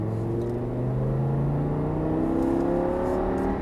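Audi R8 V10 accelerating hard on a race circuit, a loud, close engine note climbing steadily in pitch without pause, with no talking over it.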